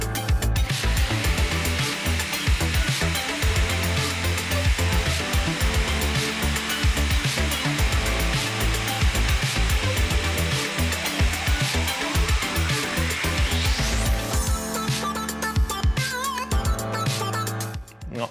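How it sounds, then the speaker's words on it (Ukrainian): An electric jigsaw cuts pieces of wood for a frame, with a steady high buzzing motor and rapid sawing chatter running continuously, then a rising whine near the end as the cut finishes. "Беремо електролобзика, або якщо у вас його нема, звичайну ручну пилку. І відрізаємо наші відрізки."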